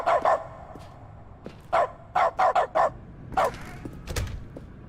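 Dog barking in Doggo mode of The Stanley Parable Ultra Deluxe: a run of short, loud barks, one pair up front, then a quick cluster of five, followed by a lone bark and a softer low thump near the end.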